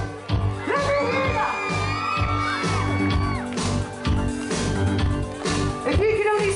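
A Plymouth Pride crowd screams, whoops and cheers loudly in repeated waves, with shrill yells rising over the mass of voices.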